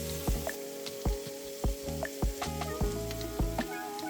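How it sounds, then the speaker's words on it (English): Onions and peppers sauté in hot avocado oil in a pan, a steady sizzle broken by repeated sharp clacks of a utensil stirring, with no talking. "Add some avocado oil. Once it's hot, add in your onions and peppers. You're going to saute those until they soften."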